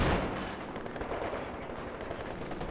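A ZiS field gun fires in the World War II strategy game Company of Heroes 2, a heavy blast at the start trailing into a dense, rumbling din of battlefield gunfire and explosions.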